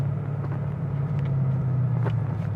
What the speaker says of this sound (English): This thing sounds incredible every time you let the clutch out and hit the gas.